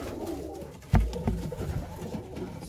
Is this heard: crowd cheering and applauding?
no